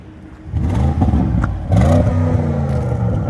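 A car with a straight-pipe free exhaust revs loudly and close by in two rising bursts, the deep engine roar swelling and settling with a raspy, unmuffled tone.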